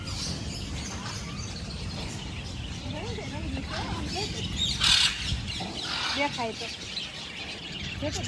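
Many small birds, including colourful finches and green parrots, chirp and tweet together in a noisy zoo aviary, with overlapping calls, a steady background din, and one sharper burst midway.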